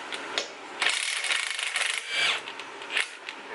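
A power tool spins out strut bolts on a Ford Fiesta ST during an air ride suspension install, giving several short bursts of whirring and rattling with brief pauses between them, nearby and moderately loud.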